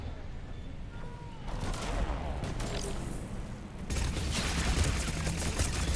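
Heavy gunfire from a gun in Mass Effect 3, dense rapid shots building into a louder barrage partway through, close and continuous, with a voice under the shooting.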